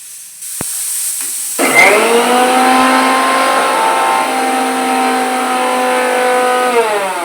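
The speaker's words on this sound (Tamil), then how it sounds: "அதையும் போட்டு மிக்ஸி ஜாரில் பார்த்தீங்கன்னா ஒரே ஒரு சுற்று மட்டும் சுற்றி எடுத்துக்க போகிறேன்." A kitchen mixer grinder jar blends peanuts and curd. The motor kicks in abruptly with a rising whine and then runs as a loud, steady, close-up hum for about five seconds.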